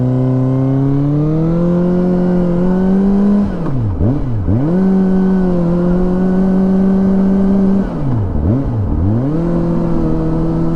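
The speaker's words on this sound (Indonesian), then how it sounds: "Sambil dengerin suara knalpot, saya mau biasa kita bercerita ya tentang Jepang." Steady loud engine drone from a Kawasaki Ninja ZX-25R being ridden with a WRS racing exhaust, with two brief dips where the revs drop and climb back, continuous and close.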